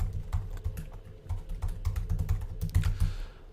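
Rapid keystrokes on a computer keyboard as an email address is typed, a steady run of close, crisp clicks with no talking.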